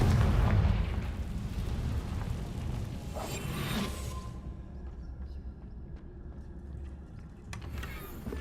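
A Confringo blasting spell detonates in Hogwarts Legacy, a loud low boom with a rumbling burst that rolls on for several seconds before fading into quieter ambient rumble.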